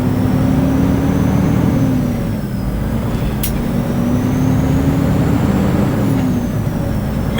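A company truck drives toward a Petro truck stop, its engine holding a steady low drone with constant road rumble throughout, close and fairly loud, with a brief air-like hiss partway through.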